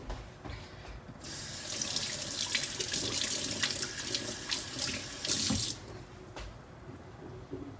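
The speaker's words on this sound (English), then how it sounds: "Wash my hands again." Tap water runs steadily into a kitchen sink as hands are washed, a broad continuous rush lasting several seconds before cutting off, with faint handling clatter around it and no talking.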